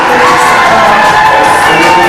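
A crowd at a Kazakh wedding celebration cheers and shouts continuously, a dense, loud wash of voices and whoops with children's shouting mixed in.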